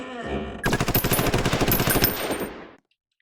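Rapid machine gun fire from a combat video game, one loud close sustained burst of evenly spaced shots lasting about two seconds, then cutting off into silence.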